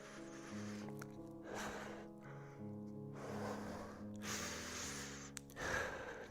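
Heavy, rhythmic breathing and snorting gasps from someone doing burpees in a workout, fairly close, over steady background music.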